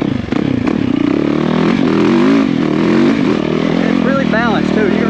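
A motorcycle rides on an off-road trail, its engine droning and revving steadily up close with clattering over rough ground, while someone talks over it throughout.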